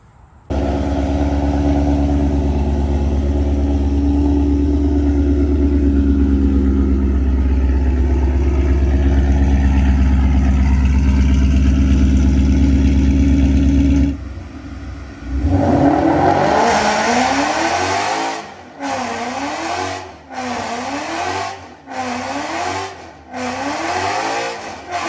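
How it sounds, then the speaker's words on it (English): A wrecked-and-rebuilt 2016 Mustang GT 5.0 roars loudly through a sustained burnout, engine held high for a long stretch, then revs rise and fall in repeated sharp bursts with tire squeal close by. "Let's go ahead and see if it can do a burnout."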